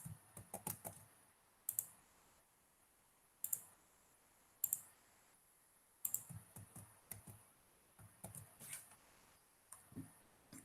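Computer keyboard typing with a Ctrl Z keystroke combination, sharp isolated clicks in small bursts separated by quiet pauses, close and crisp with no talking.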